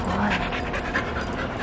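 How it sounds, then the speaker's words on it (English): An excited, hyper dog pants rapidly and steadily close by, a continuous rhythmic huffing of quick breaths with no talking over it. "You can tell he's hyper just from his panting."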